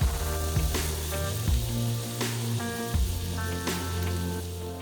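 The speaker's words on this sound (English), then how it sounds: "The onions are sizzling up" Red onions sauté in a hot pan, giving a dense, continuous close-up sizzle with crackling pops throughout. Faint tonal music plays in the background.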